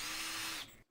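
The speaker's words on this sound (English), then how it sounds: "I'm going to drill a hole in there that's slightly oversized anyway" A power drill bores an oversized hole in wood for kayak gear track storage pockets, a loud steady whine for most of a second that drops away quickly as the bit stops.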